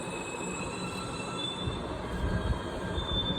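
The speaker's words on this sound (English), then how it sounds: "And the train is stopping here." A New York subway E line train squeals its wheels as it brakes to a stop. A thin, sustained metallic whine rides over a low rumbling rattle that swells toward the end, heard from inside the car.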